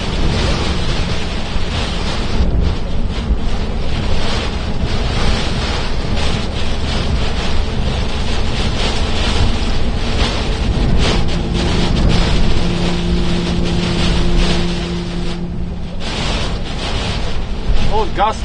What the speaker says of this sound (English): A little frickin' windy.